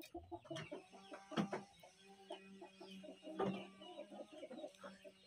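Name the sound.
rooster clucking while being fed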